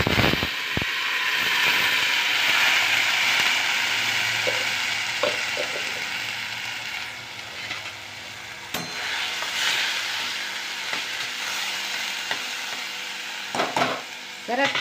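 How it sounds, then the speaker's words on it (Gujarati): Fenugreek seeds and spices sizzle in hot oil for a tempering, a steady crackling hiss throughout with a few clinks of a spoon against the pan. "સરસ મજાનો મેથીનો વઘાર થઈ ગયો છે"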